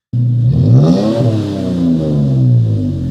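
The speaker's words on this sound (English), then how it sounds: "the 6-cylinder on the Tacoma really does have a pretty nice grunt to it with the right exhaust system" Third-generation Toyota Tacoma V6 revving through an aftermarket exhaust: one loud, close rev climbing in pitch, then settling into a steady throaty idle, with no talking.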